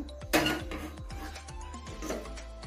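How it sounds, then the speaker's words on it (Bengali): A karahi (wok) is set down on a kitchen stove with a sharp metallic clank, followed by a few lighter clinks of cookware close by. "চলো এখানে কড়াইটা বসিয়ে দেবো।"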